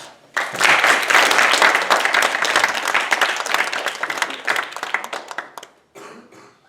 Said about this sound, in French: on va les applaudir bien fort, s'il vous plaît